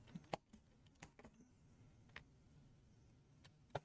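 Soft, sparse keystrokes on a computer keyboard click irregularly at low level, a few sharper taps standing out against a quiet room hiss.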